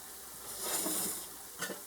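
Ground beef for stroganoff simmers and sizzles in a pan, a steady soft hiss with a brief stir or scrape near the end, close and moderately quiet with no talking.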